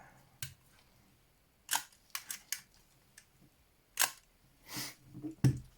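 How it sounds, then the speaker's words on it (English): A Canon IId film camera's shutter fires repeatedly at close range, each release a sharp metallic click, some isolated and others in quick clusters, with quiet gaps between them. "The shutters sound just slightly louder or more metallic sounding than the one on my Nikon 33"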